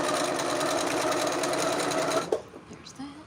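A sewing machine stitches quilt strips in a steady, fast mechanical whir for about two seconds, then stops abruptly, leaving faint clicks and a voice talking briefly afterward.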